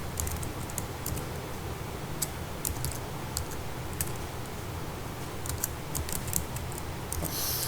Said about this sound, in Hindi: हम थोड़ा सा डेटा टाइप कर लेते हैं।